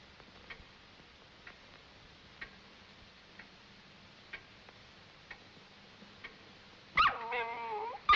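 An indoor dog in a 1935 period film gives a short, loud burst of whining yips near the end, after several seconds of a room clock ticking steadily.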